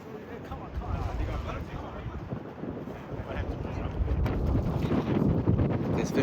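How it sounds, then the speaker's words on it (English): Wind blowing hard against the microphone while fishing outdoors by the water, a continuous close rumbling buffet that swells stronger toward the end, with voices talking faintly underneath. "It's awfully windy right now."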